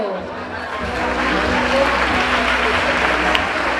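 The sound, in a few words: applause for the children's carnival court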